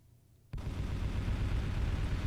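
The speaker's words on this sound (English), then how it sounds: "That is a massive barrage for the EMP thing." A massive EMP barrage in the Final Theory strategy game begins with a sudden loud impact after near silence, then continues as a dense, sustained rumbling roar of overlapping blasts.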